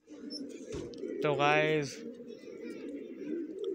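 A newly added pigeon among a flock of other pigeons gives a low, throaty coo that rises clearly for about half a second, over a constant murmur of background cooing and someone talking nearby.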